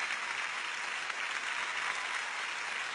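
Audience applause for performers at an Italian music awards show, a steady, even wash of clapping heard from a distance at moderate level, with no voices over it.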